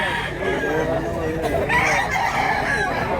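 A Clipper-breed gamefowl rooster crows amid a noisy outdoor market in Mantalungon, Cebu, the call blending with steady background chatter and ambient bustle.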